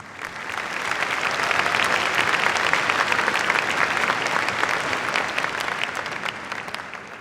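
A graduation audience at a computer science ceremony breaks into a large, continuous round of applause that swells and holds for several seconds, dense clapping with no voices over it.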